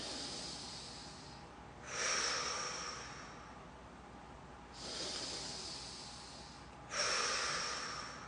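Slow breaths drawn in through the nose come in soft, airy pulls separated by pauses, quiet and close in a calm setting.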